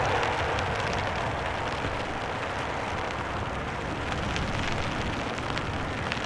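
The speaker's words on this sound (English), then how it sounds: "still raining here, as you guys can hear." Steady rain pours down throughout at Amsterdam Schiphol Airport, a dense broadband hiss of drops hitting surfaces, close and continuous with no voices.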